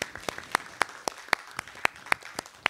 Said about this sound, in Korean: 긴 시간 업체의 평가 진행을 도와주신 5분의 심사위원분들과 행사를 준비한 YN아처와 슈퍼C 관계자분들 및 사업 담당자 여러분들께도 뜨거운 박수 한번